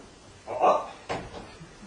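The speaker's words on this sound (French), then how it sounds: "je pense que le vent a fermé la porte" A door blown shut by the wind, heard as a short knock-like thump followed by a second sharper bang about half a second later, indoors at moderate loudness.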